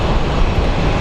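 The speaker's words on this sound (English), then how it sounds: "Looks like we do have the MD coming in" An MD airliner approaching Phoenix Sky Harbor International Airport, its jet engines a loud, steady, dense rumbling roar that fills the whole moment without letting up.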